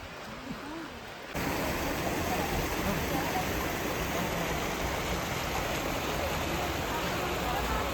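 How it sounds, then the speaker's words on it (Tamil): Water falls at Kovai Kutralam waterfall near Coimbatore, a steady broadband rush that starts abruptly after a quieter opening and continues evenly and loudly throughout. "ஆனால் தண்ணி சவுண்டு கம்மியாக தான் இருக்குது, கேட்குது பாரு."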